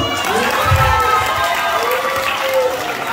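Crowd applause with scattered cheering and shouts at a homecoming gathering, a steady dense clapping wash lasting the whole moment, fairly loud and close, with voices mixed underneath.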